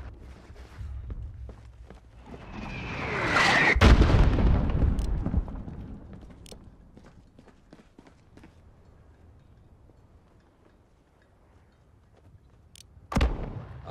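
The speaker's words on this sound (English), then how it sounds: "Mortars! Alex, fucking mortars now?" Mortar fire in the Modern Warfare video game campaign: a loud incoming whistle breaks into a big booming blast that rumbles away, and another sharp impact lands near the end.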